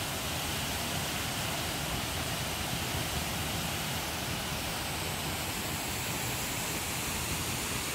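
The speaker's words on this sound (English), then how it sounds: "it's over the waterfall." Desoto Falls pours in a constant, even roar of rushing water, a steady broadband wash heard from nearby with no talking over it.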